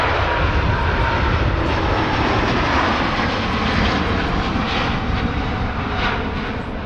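A plane takes off from Manchester Airport and climbs steeply toward Houston, its engine roar loud and steady, broad and unbroken throughout, easing only slightly at the very end.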